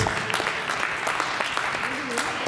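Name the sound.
applause for the score keepers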